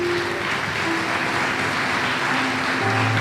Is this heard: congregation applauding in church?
yes